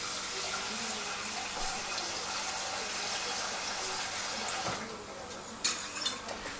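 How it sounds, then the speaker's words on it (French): Liquid streams steadily into a pot of lamb stew with flageolet beans, a continuous close splashing pour that eases off near the end, followed by a few light clinks of cookware. "il faut mettre du liquide à hauteur"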